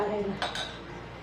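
Steel cutlery scrapes and clinks against dishes as cooked food for a home thali (dal, rice, amti, shira) is served onto an offering plate, two sharp close clinks over a steady kitchen background.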